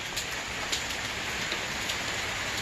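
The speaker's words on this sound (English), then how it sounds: "it's starting to rain out here now." Steady rain falls outdoors near a porch, a constant even hiss with scattered soft drop taps, moderately quiet and with no voices.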